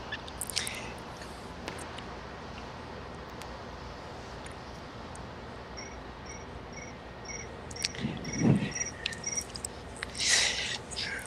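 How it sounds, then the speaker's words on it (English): Cricket-chirp cell phone ringtone going off in a curling arena, sounding as short, evenly spaced high chirps, faint and distant over a low crowd hum with a few scattered knocks and noises. "It's actually a ringtone from a cell phone"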